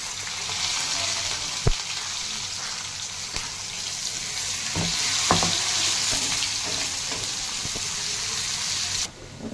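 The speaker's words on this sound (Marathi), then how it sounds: "तर जिरी मोहरी हळद आणि कांदा तेलामध्ये टाकलेला आहे" Onion, cumin, mustard seeds and turmeric fry in oil with a continuous hiss and crackle, broken by occasional sharp spoon taps and scrapes against the pan, close up, until the sizzle cuts off at the end.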